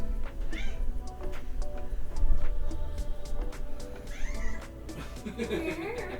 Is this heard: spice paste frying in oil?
no